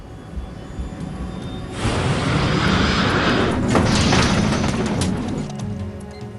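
An airliner's jet engines roar as it takes off with faulty engines near the Potomac River, a loud broadband rush that swells sharply about two seconds in and holds, close and sustained.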